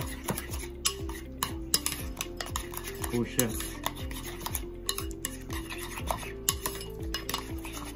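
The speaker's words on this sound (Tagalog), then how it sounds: "Then mix well." Ingredients for a crab salad sushi roll being mixed with a utensil in a bowl, giving a steady run of rhythmic scraping and clinking strokes, close and fairly quiet, with no talking.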